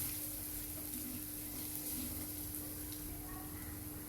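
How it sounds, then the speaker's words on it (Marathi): Ground cumin, fennel and coriander frying with ginger in oil over low heat for a samosa filling, a faint, steady hiss and crackle alongside a constant low hum, with no talking. "हे छान झाले की आपण वाटलेलं जिरं, शोप आणि धणे हे पण छान फ्राय करून घेऊ"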